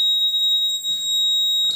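The horn alarm of an IoT substation monitoring device sounds as a loud, steady high-pitched electronic tone that holds throughout, with brief low rumbles of handling noise beneath it.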